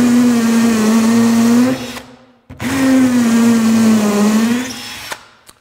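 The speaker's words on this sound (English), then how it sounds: "So, that made short work of drilling into masonry." A Hitachi 18V combi drill hammer-drills into a cement block in two loud bursts of whining motor, each about two seconds long, with a short silent pause between them and a clatter as it stops.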